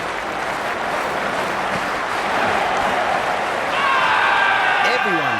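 A large cricket crowd at a Sydney Sixers versus Melbourne Stars match roars steadily after a wicket, the cheering swelling louder toward the end, with a commentator speaking over it.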